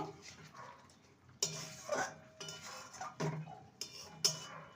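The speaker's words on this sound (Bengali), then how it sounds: "সবার শেষে দিয়ে দেবো গরম মশলা গুঁড়ো ভালো করে মিশিয়ে নেব" Garam masala powder being stirred into a vegetarian cabbage curry with koftas in a pot, giving a few scattered clinks and scrapes of a utensil against the metal over a quiet background.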